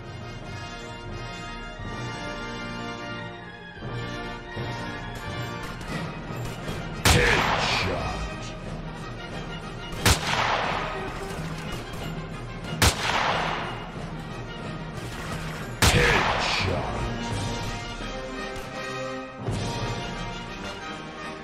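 Gunfire in GTA Vice City: repeated sharp game gunshots land one after another at close range over a dense game soundscape of background music and effects, with several loud bursts standing out.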